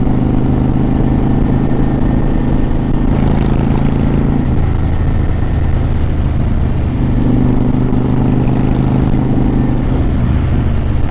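A Honda Shadow 750 Phantom cruiser motorcycle engine revs close and loud, its low V-twin drone climbing and falling between steady idle stretches, with no talk over it.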